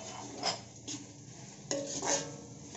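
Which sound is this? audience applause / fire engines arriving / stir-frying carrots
stir-frying carrots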